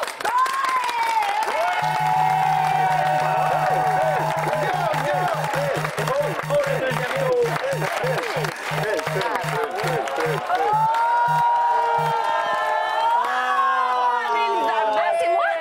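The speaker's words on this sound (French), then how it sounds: "Dès que tu entends les 6 panélistes t'applaudir de façon synchronisée" Game show panelists clap in tight unison, a regular rhythmic beat of synchronized claps over a loud cheering studio crowd, with a host talking through it.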